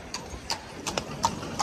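Irregular clip-clop of horse hooves on a hard town square in Bruges, moderately loud, with a soft background hum of an open outdoor space and no talking.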